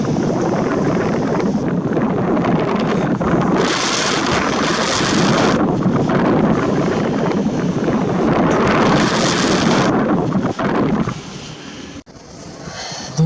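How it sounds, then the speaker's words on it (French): Strong winter wind in Sallanches buffets the microphone in loud roaring gusts, rising and easing over several seconds, with a brief lull near the end. "Vous entendez le vent? Oh là là, les conditions de malade."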